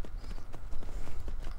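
Horse hooves clip-clop in a quick, steady rhythm as a mount is ridden in the Skyrim video game, the hoofbeats fairly close and loud over a low rumble.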